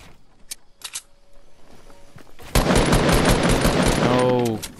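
Rapid automatic gunfire from a video game shootout, a loud sustained burst of crackling shots following a few sparse sharp pops, with a voice briefly cutting in near the end.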